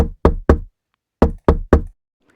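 Sharp knocks on a door come in two groups of three, close and loud, separated by a short pause in otherwise silent surroundings.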